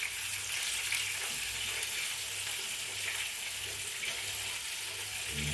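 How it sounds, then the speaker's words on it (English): Chicken frying Jamaican style in a pan, a loud, steady crackling sizzle with a faint low pulsing hum underneath and no talking. "Yeah guys, chicken are fried."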